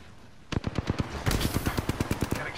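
Automatic gunfire in a video game comes in rapid bursts: a short rattling volley, a brief pause, then a longer stream of quick shots, all loud and close.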